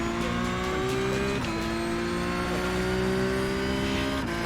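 Racing video game car engine droning steadily with rising pitch sweeps and gear-shift drops, tires faintly hissing, continuous and loud throughout.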